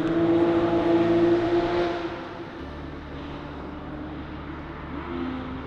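A Formula Ford racing car fitted with a Ford 1-litre EcoBoost engine gives a loud, steady engine drone that drops to a lower, quieter running note after about two seconds.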